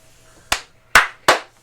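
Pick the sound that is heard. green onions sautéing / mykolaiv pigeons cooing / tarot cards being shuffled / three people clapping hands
three people clapping hands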